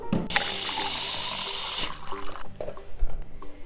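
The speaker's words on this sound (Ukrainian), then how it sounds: "Наливаємо в чайник воду." Water runs steadily into a toy kettle in a children's play kitchen for about a second and a half, then stops, followed by a few light clunks and knocks.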